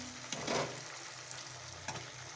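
Chicken pieces fried in a home kitchen pan give a steady, quiet sizzle, with a brief louder hiss as they drop into the hot oil and a soft second stir near the end.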